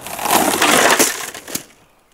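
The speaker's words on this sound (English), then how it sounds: "Now pushing the glass out. Push it as hard as you can." Tempered car window glass is crushed and shoved out of the frame, giving a loud, close crunching and grinding rush with a sharp crack near the end before it fades to quiet.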